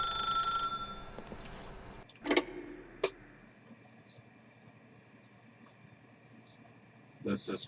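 A telephone ringing in the video game The Stanley Parable, two short bright electronic rings in quick succession, then quiet room tone before another burst near the end.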